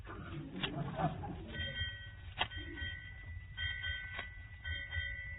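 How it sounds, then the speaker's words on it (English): A ship's bell rings several times in short, spaced strikes, fairly faint, while a voice talks in the background. "What's the bell ringing for, McGee?"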